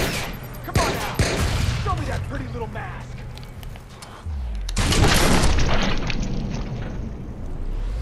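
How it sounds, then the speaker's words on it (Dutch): In the Watch Dogs video game, a thrown grenade explodes and gunfire rattles in bursts, loud booms and crackling shots filling the scene while players talk over the action. "Kijk, hij gooit net een granaat"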